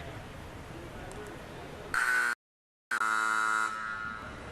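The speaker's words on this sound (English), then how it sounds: "There's the buzzer as we look to get the second period underway here shortly." A loud, harsh buzzer blares in two long blasts separated by a brief silence, over a murmuring arena crowd at a deck hockey semifinal before the second period.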